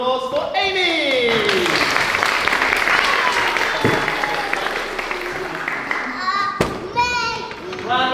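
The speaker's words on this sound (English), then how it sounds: "Round of applause for Amy!" Lively clapping fills a school leavers service at Charlton Horethorne in July 2021, with children's voices and chatter over it, a couple of thumps, and speech rising again near the end.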